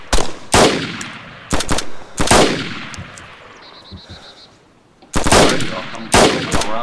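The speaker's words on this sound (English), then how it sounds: "He's about to shoot this fresh spawn." Gunfire in the video game DayZ, several loud, sharp shots in quick clusters with a quieter gap in the middle before two more close bursts, with little talk over them.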